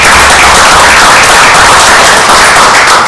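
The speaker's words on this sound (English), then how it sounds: "and a little round of applause for Blaze." Attendees at a township committee meeting applauding, a very loud, dense, close-miked roar of clapping that stays constant throughout and is slightly distorted.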